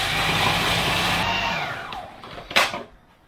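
A blender blitzing red pesto whirs loudly and steadily with a high motor whine, then winds down and stops, followed by a short clatter.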